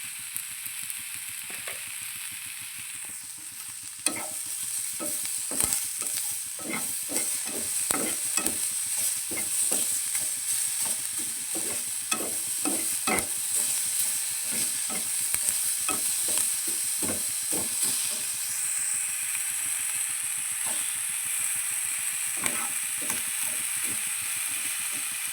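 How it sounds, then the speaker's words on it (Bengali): Dried fish (shutki) fries with garlic and onion in oil, giving a steady low sizzle broken by rapid, repeated spatula scrapes and stirring strokes close by. "এই যে আমার শুটকি মাছ আর রসুন পেঁয়াজ ভাজা হয়ে গেছে"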